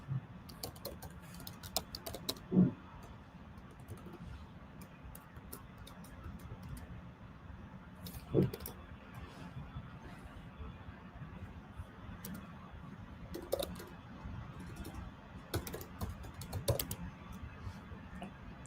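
Soft, steady clatter of typing on a computer keyboard, keys tapped close by in uneven bursts with a few sharper, louder strikes, under a low background hum and no talk.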